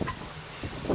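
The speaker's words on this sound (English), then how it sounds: "there's the wind right there" Wind buffets a microphone outdoors beside a 1991 Club Car DS gas golf cart, low rumbling gusts swelling near the start and again toward the end of a brief moment.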